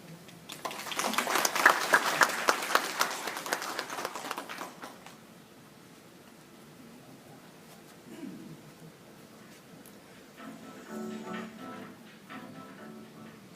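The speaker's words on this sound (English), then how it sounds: "Please give a round of applause to our president," An audience at a university ceremony applauds for the president in a brief burst that swells, then fades out after a few seconds, leaving quiet room sound with faint murmurs.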